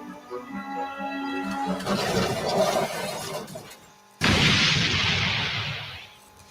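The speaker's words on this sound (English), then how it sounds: "Alfred was killed in a fiery explosion." A fiery explosion strikes a runaway train in a siding: a sudden loud crashing burst cuts in after a near-silent gap, following earlier rumbling and shattering debris, then a dense roar that slowly fades.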